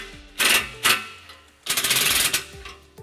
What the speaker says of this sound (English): we're going to retighten that clamp using our 15mm socket